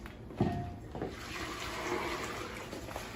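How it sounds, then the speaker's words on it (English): Pickling juice for sweet gherkins is poured over the pickles in a canning jar, a soft continuous liquid pour with a brief splash at the start, fairly close. "I'm going to bring it over here and pour it over the pickles."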